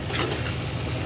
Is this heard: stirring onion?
yes